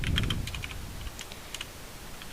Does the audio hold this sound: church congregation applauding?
no